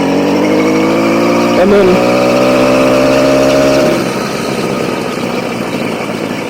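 A motorized bicycle engine drones loud and close, rising in a rev as the clutch is released and throttle applied, then dropping to a rougher, lower idle; someone speaks briefly over it.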